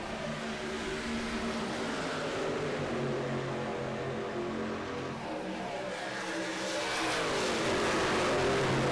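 Race cars roar around the Atlanta oval in a dense, continuous pack, engines droning and rising together at high speed, loud and steady throughout with no voices.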